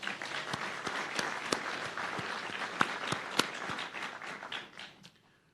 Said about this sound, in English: let's give them a round of applause for sharing with us